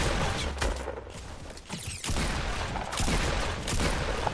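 Dense bursts of gunfire in a battle royale video game, rapid overlapping shots and fusillades crackling throughout at close range without pause.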